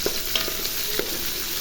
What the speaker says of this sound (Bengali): তারপরে এখানে পেঁয়াজ, এগুলো দিয়ে আমি এখন ভেজে নেব ভালো করে তেলের ভিতরে।